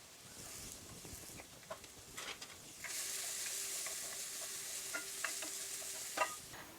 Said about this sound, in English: we're going to add the sliced shallots. So we're going to cook these until they're lightly browned